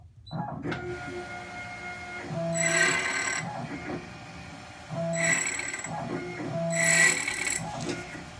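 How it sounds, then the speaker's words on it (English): An ITL 9700A key machine cuts a key with an articulating head, giving a steady motor whine broken by three louder grinding passes of the cutter, close and without speech. "We have the key. We are going to make a beautiful cut."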